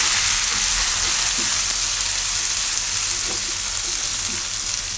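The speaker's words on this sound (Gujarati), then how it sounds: "ડુંગળી થોડીક વાર આમાં પાકવા દે." Onion fries in a pan with asafoetida, ginger and chillies for a Gujarati dudhi dal pulao. A loud, steady, close sizzle hisses continuously, with faint stirring scrapes and no talk.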